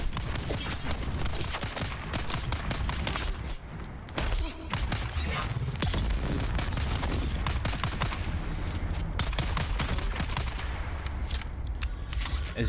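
Gunfire in the video game Dune: Awakening, a dense, loud stream of rapid shots with clattering mechanical impacts that runs almost without pause for the whole stretch, with barely any voice.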